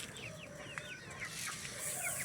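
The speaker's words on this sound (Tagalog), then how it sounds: "Ayan po yung mga sisiw, ang dami." Many young chicks chirping in a flock, high cheeping calls overlapping and repeating rapidly against a continuous outdoor background hiss, with a faint cluck of adult fowl nearby.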